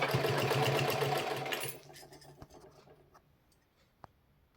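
Sewing machine stitching a salwar runs steadily for under two seconds and then stops, leaving faint clicks and a sharp tick afterward in a quiet room.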